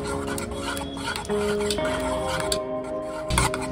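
An egg and milk mixture is whisked for an omelette for cheesy anda pav, making a steady scraping rasp that runs throughout over a constant low kitchen hum, with a slightly louder rough burst near the end.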